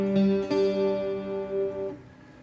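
A guitar chord is picked note by note, the tones ringing together clearly and sustaining for about two seconds before being damped.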